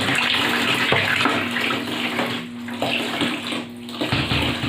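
Water gushes from a tap, driven by a water pump, a steady loud splashing stream like a tub filling, with a low pump hum underneath and brief dips in flow.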